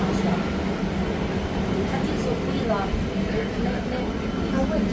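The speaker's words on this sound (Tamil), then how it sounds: "நம்ம போகிற லோக்கல் ட்ரெயின்." Steady rumble and rattle of a moving local double-decker train from inside the carriage, continuous rolling noise with faint background voices.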